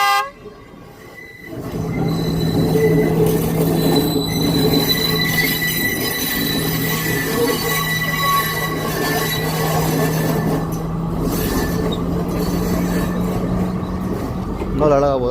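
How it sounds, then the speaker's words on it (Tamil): At night in Ella, Sri Lanka, a train rolls past slowly and close by, its wheels squealing in a long sustained tone amid rumbling and clatter, with a horn note and some voices nearby. "அங்கே வரது ட்ரெயின்."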